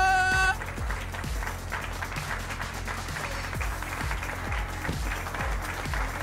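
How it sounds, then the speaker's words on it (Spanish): Applause in a steady patter of hand claps follows a short musical jingle at the start and continues evenly at moderate volume to the end. "¡Un fuerte aplauso!"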